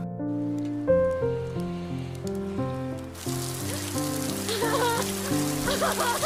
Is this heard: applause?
no